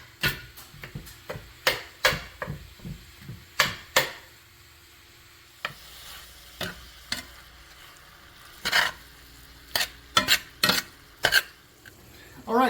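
A spatula scrapes and clacks against a pan as hamburger and vegetables brown, sharp repeated strokes in irregular bursts over a soft continuous sizzle, close and fairly loud.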